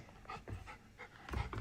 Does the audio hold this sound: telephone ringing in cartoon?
no